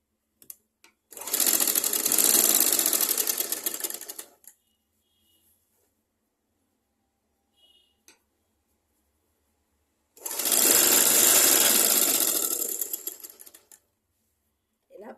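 A sewing machine stitches fabric during a tailoring lesson, running in two loud, rapid bursts of about three seconds each, separated by a long quiet pause with a few faint clicks.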